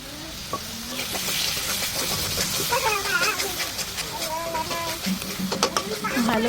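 Katla fish curry masala cooking down in oil in a pan, a steady sizzle with stirring clatter throughout, joined by a person talking over it.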